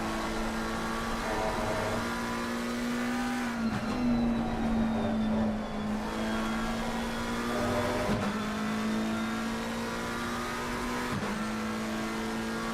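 Race car engine on an onboard lap at Watkins Glen, droning steadily at high revs with pitch dips at shifts or braking around 4, 8 and 11 seconds, loud and continuous throughout.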